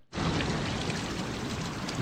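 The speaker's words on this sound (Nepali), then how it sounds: "पनि पानीको धारा" A stream of water pours steadily in Himalayan hill country with Dhaulagiri and Annapurna in view. The close, continuous rushing starts abruptly and holds an even, loud level with no voices.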